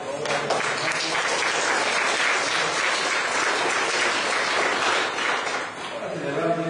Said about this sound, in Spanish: Luis Alberto Castillo García, y Ana García, damos un aplauso, por favor.